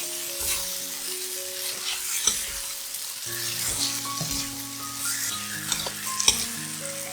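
Vegetarian sea cucumber is stir-fried in a wok, with repeated clanking and scraping strokes of a spatula over a constant sizzle, close and fairly loud, no voices.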